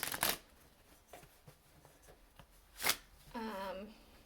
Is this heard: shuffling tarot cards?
yes